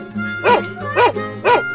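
Three evenly spaced barks from a dog in a 3D animal video game ring out loud and close over a steady low musical drone.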